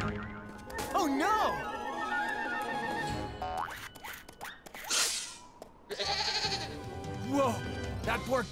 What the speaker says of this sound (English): A baby mountain goat is stuck on the snowy mountains.